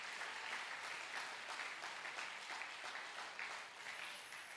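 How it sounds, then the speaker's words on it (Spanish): A church congregation claps together in a strong, sustained round of applause during a sermon, an even wash of many hands, heard faint and distant. "denle un fuerte aplauso a Jesucristo."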